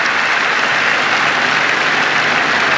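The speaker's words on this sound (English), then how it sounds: "the Lancashire faithful can applaud Jimmy Anderson" Cricket crowd at a Lancashire ground during an England v South Africa Test applauding a bowler at the end of an over; steady, dense clapping fills the whole stretch at a fairly loud, even level with no talk.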